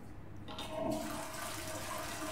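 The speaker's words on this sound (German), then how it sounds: "Spülung funktioniert." Toilet flushing in the video game SOMA, a steady rushing wash of water that swells after a moment and keeps running for the whole stretch, heard up close with no talk.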